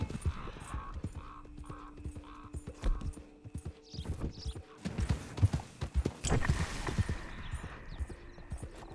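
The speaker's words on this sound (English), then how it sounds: "A lot of horses around." Horses walking on a trail near a camp, hooves clip-clopping in an uneven rhythm at moderate distance, mixed with rustling and scattered outdoor noise.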